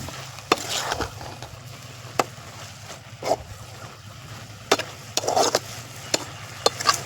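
Greens and banana flower are stirred in a pan as they cook, giving scattered scraping and clinking spatula strokes over a low steady background hum, fairly quiet and close.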